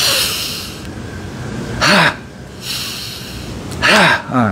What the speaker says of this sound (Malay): Tarik nafas melalui hidung, lepas melalui mulut sambil bunyi H-A-H.